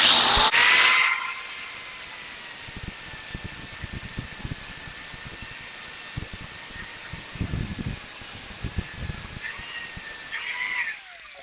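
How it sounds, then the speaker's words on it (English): A grinder cuts into metal to fix a wobbly lawnmower wheel, with a loud burst at the start that settles into a steady high whine and hiss, and scattered scraping and knocking underneath. "Remember, if you're grinding on anything, remember your eyes and ears."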